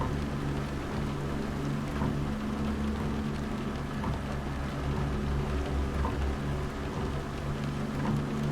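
Steady rain falls without pause in American Truck Simulator, a dense wash of drops over a low, constant truck engine drone, with no voices.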